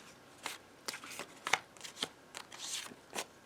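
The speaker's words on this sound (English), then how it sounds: "So I've got these 2 little journaling cards." Paper journaling cards are handled and flipped through up close, giving a series of soft, quiet rustles and papery slaps at an uneven pace.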